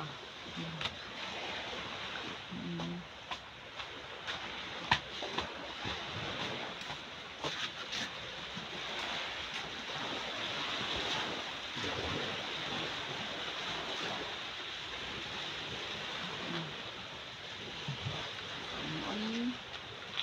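A calm sea on a hot, clear day washes softly and steadily against the shore, with faint cooing from doves in the distance now and then.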